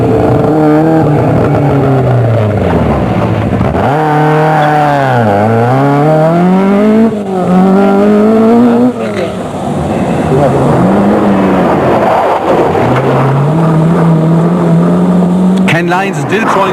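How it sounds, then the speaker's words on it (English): Rally car on the 1982 Circuit of Munster braking late and reversing, its engine loud and close, rising and falling in repeated revving swoops, with commentary spoken over it. "A bit of late braking from Bertie Law. And a lot of reversing."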